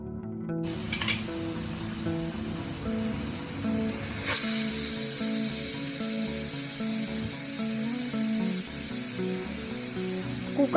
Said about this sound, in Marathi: कुकरला झाकण लावून कुकरची एक शिट्टी करून घ्यायची